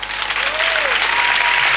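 A church congregation applauds loudly and steadily, dense clapping filling the whole moment with a faint voice or tone gliding briefly underneath.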